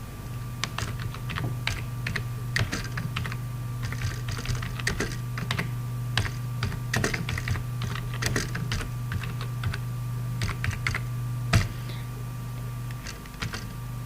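Steady typing of HTML code on a computer keyboard, close and fairly quiet key clicks in uneven bursts over a low electrical hum, with no talking.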